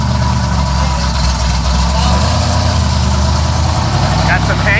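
A deep Pontiac engine with a high stall torque converter rumbles loudly and continuously at a car show, idling with a heavy low throb throughout.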